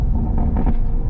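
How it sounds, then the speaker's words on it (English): Toyota GR Supra exhaust in sport mode with the exhaust valve open and a burble tune, giving a steady, loud, low rumble that holds for about a second with no talk over it. "Sport mode. The exhaust sounds good. Exhaust valve open."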